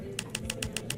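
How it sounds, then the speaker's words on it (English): A clicking typing sound effect in a video game under development: six evenly spaced, bright key taps over one second, faint and slightly choppy against a low background hum. "Here's the typing."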